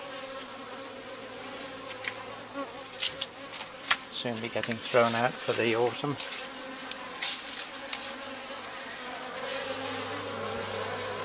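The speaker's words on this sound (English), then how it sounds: "You hear a lot of drones." Steady buzzing of many honeybees and drones close by at a backyard garden hive in the UK, a continuous insect drone with someone talking briefly over it.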